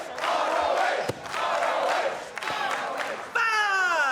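Wrestling crowd at a Ring of Honor event roaring and cheering loudly in a sustained wave, with a shrill chorus of voices rising at the end.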